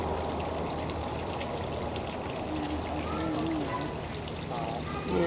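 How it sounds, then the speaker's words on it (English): A little waterfall in a garden pours and trickles in a continuous close wash, with faint voices and bird-like chirps rising briefly above the water. "Oh, little waterfall."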